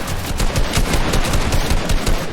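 Rapid automatic gunfire rattles through a Fortnite box fight, a loud dense burst of closely spaced shots firing continuously at a fast, even rhythm.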